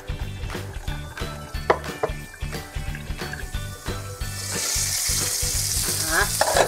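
Meat patties sizzle loudly in an already heated frying pan, a steady crackling hiss that grows denser and brighter toward the end, close and continuous.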